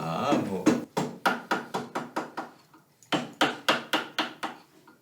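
Wooden stamps for printing fabric being carved in a workshop, heard as crisp rhythmic mallet taps on a carving tool in two quick runs of even blows with a short pause between.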